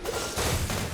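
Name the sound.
elemental burst explosion in video game Genshin Impact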